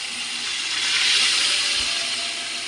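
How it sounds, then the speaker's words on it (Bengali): Boiled peas are poured into hot, oily masala in a pan, producing a loud, continuous close hiss of sizzling that swells slightly and then holds steady. "তো চলো আমি এবার মটরটা ঢেলে দিই"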